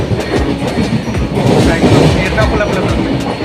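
Passenger train rolling along rails on a Kerala journey toward Ernakulam, a steady rumbling clatter of wheels and carriage noise filling the space, with people talking throughout.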